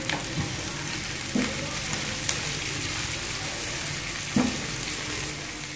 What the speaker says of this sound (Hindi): अब इसको मैं हाई फ्लेम पे 1 से 2 मिनट के लिए सोते कर लूँगी